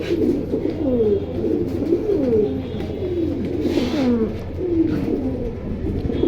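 Khaki military pigeons coo steadily in a close, continuous chorus of overlapping throaty, rolling calls over a low background hum.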